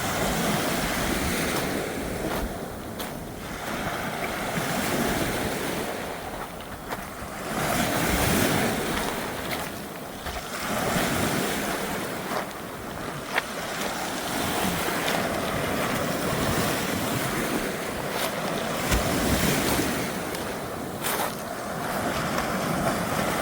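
Steady roar of ocean surf and gusting wind along a Pacific shoreline walk in Victoria, Canada, with waves swelling and breaking in slow surges and wind buffeting the microphone throughout.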